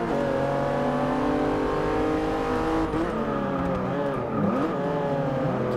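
A Viper engine in a Porsche 911 Turbo S in Forza Motorsport 6 revs steadily at high pitch, then shifts gears with paddle shifters and climbs again, loud and continuous with a synthetic game-like quality.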